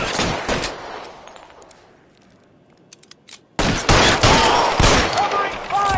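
Gunfire in the video game L.A. Noire, dense close fusillade of rapid shots that fades to a quiet lull with a few isolated pops, then bursts back loud and sustained.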